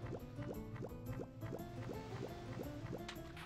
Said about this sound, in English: The sound the water makes.